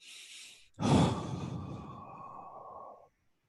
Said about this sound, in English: Exhale everything.